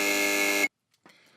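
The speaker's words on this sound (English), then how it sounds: "And if you don't, then you get the buzzer." A game show buzzer blares as one loud, sustained flat tone lasting just over half a second, then cuts off abruptly into silence before faint background noise returns.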